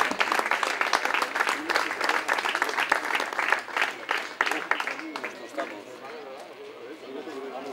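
Steady applause at a bowling trophy ceremony in Santander honours a cadet category finalist, with a speaker talking over the clapping as it gradually thins.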